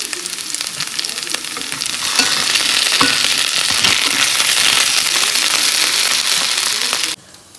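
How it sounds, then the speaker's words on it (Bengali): Potatoes for kofta curry fry in hot oil with a loud, dense, continuous sizzle and some occasional stirring, ending abruptly. "এই কোপ্তার সবজি বানানোর জন্য এখানে আলু আমি ভাজা করে"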